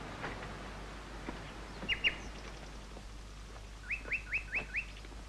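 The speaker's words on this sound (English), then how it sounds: "Nightingale." A nightingale sings at a distance: a quick pair of whistled notes, then a rapid run of five rising chirps, faint against a steady low background hiss with no talking.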